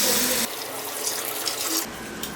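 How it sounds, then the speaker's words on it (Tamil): Water poured into a pot of egg curry during home cooking, a steady broad splashing rush that starts about half a second in and cuts off near the end, close and alone. "வேகட்டும் தண்ணி ஊற்றிக்கலாம்"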